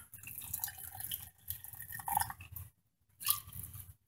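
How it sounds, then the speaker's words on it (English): Hot water is poured into a canning jar of carrots in a home kitchen, giving soft gurgling, splashing and trickling in a few separate bursts with short pauses, quiet and close. "I'm putting the hot water in there."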